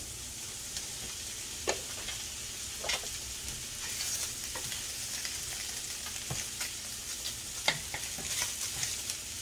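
Asparagus sizzles steadily as it goes into a hot orange roughy stir-fry with Kikkoman soy sauce, a continuous frying hiss broken by a few sharper crackles and stirring clinks, close and alone.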